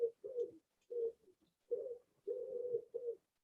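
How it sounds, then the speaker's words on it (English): A pigeon coos in a series of soft, low, throaty bursts with short pauses between them, close by and clear against a quiet background, with no talking. "that's a very noisy pigeon."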